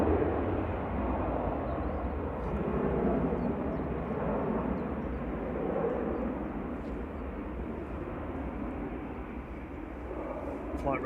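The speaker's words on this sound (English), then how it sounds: "Singapore Airlines Flight 302 there, coming in from Singapore. That's an A350-900." A Singapore Airlines Airbus A350-900 arriving at Manchester Airport produces a steady, low jet rumble that swells slightly midway and eases toward the end, heard at moderate distance.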